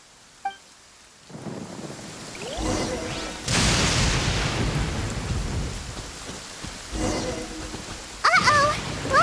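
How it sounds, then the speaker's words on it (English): A thunderstorm in the video game Genshin Impact: steady rain rises to a heavy downpour with deep rolling thunder, and brief in-game sound effects and voice sounds can be heard over it. "Uh-oh! Lightning storm!"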